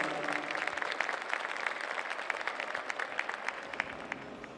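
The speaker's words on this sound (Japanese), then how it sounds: "大きな拍手をお願いいたします。" Applause from the audience after an Aizu Tajima taiko preservation group's drum performance at the Tokyo 2020 Olympic Torch Relay opening in Fukushima, a continuous moderate wash of clapping with crisp individual claps standing out.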